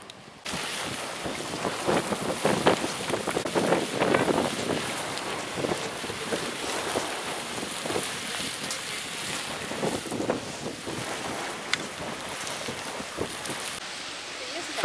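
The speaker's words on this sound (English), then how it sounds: "A little windier today." Steady wind gusts buffet the microphone outdoors at Mammoth Springs in Yellowstone National Park, a loud continuous rushing roar that runs the whole stretch, with a person talking now and then.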